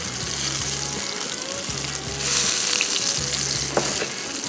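Chicken malai kabab sizzles and fries in a pan, a constant close crackle and hiss with soft rhythmic knocks of a utensil underneath and a brief louder spitting burst midway, no talk.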